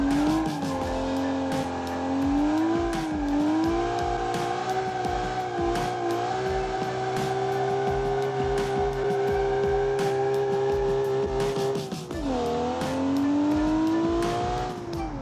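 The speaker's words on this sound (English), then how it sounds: "The engine is pretty amazing." An Automation-built car's engine revs hard toward 8,000 RPM in the BeamNG driving game. It is loud and continuous, with the pitch rising and falling through gear changes and a sharp dip and recovery near the end.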